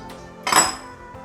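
A metal lid set down on a pan of upma over a low flame gives one bright clank with a short ringing tail, alone in a quiet kitchen.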